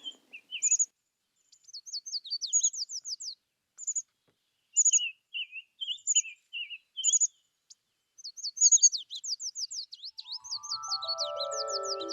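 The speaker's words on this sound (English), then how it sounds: "This route during the spring is a bird-filled songfest." Songbirds along a spring mountain canyon trail in Arizona's Huachuca Mountains sing in bright, varied chirps and trills that come in bursts and overlap through the whole stretch, with a low steady tone rising near the end.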